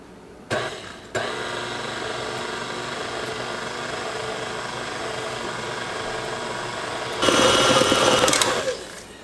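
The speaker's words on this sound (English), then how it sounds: "Let me get this blended." An electric mixer blends chew bread batter of flour, baking powder and salt, kicking on abruptly and whirring steadily close by, then a louder, harsher burst near the end before it tapers off.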